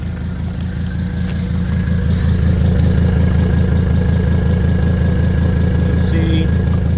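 A diesel Mercedes engine idles steadily while running on waste oil, a loud, even low rumble held throughout at close range.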